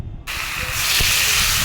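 Spices tipped into a hot wok with fried fish, tomato and potato, bursting into a loud, steady sizzle and hiss that swells and holds close up.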